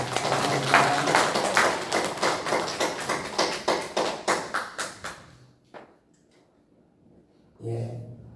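A Korean church congregation applauds to welcome returning members, clapping in a steady rhythm that gradually fades to quiet, followed by a brief murmur.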